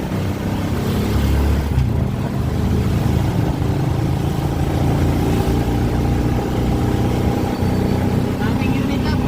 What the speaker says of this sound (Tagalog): Grabe na traffic dito sa amin